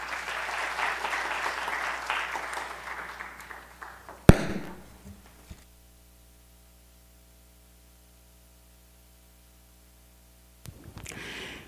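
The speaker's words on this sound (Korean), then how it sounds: "박수로 한번 환영해 주십시오." Applause welcoming a speaker to the front during a Friday prayer service at a church, a broad wash of clapping for about four seconds that ends in a sharp bump, then near silence before brief noise returns.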